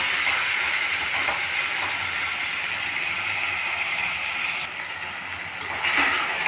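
Ginger garlic paste fries in a pan for mutton curry, giving a steady, loud, continuous hiss and sizzle that barely changes, briefly dipping before surging again.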